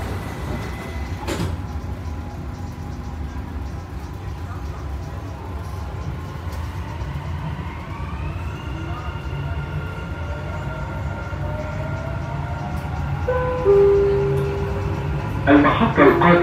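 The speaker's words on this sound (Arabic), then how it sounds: "The train to Creek will depart from Creek platform." A Dubai Metro train at Union station, with a steady rumble of rolling stock and rising motor whine as it pulls away, plus a door sound near the start and chimes near the end.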